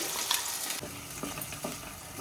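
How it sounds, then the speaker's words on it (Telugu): Masala paste for a spicy mutton curry sizzles loudly in hot oil, with steady frying hiss and a few scraping stirs of a spoon against the pan partway through, no voices. "పేస్ట్ మొత్తం ఈ ఆయిల్లో మొత్తం వేసి వేయించాలండి"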